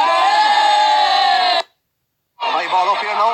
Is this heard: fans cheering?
yes